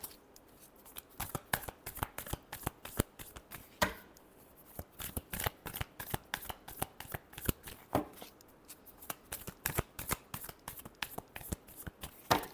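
Tarot cards being shuffled by hand, a long run of crisp, rapid riffling and slapping bursts repeating in quick irregular rhythm, close and clear with no talk.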